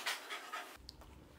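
A puppy pants in quick, breathy bursts close to the microphone, then the panting fades to softer sniffs and breaths.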